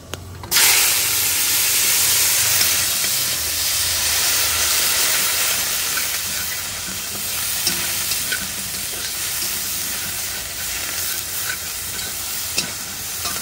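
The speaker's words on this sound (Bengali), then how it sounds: "পেঁয়াজটা অল্প অল্প ভাজা হোক" Chopped onions for fried rice hitting hot oil in a pan, a loud sudden sizzle that settles into a steady hiss, with occasional light stirring clicks, close by and without talk.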